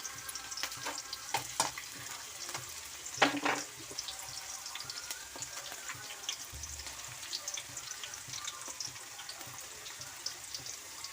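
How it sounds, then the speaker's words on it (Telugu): Onion, garlic, curry leaves and cumin fry in oil for a bitter gourd dish, making a soft, constant sizzle. Scattered clinks and scrapes of stirring sit over it, with one sharper knock near the start. "ఇవన్నీ కొంచెం గోల్డెన్ కలర్లోకి వచ్చేదానికి వేయించుకోవాలి."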